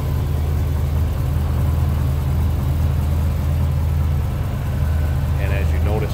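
A 1962 Ford Thunderbird with a 390 V8 idles steadily, a loud, continuous low rumble from close by with a faint whir on top, plus a short mechanical squeak near the end.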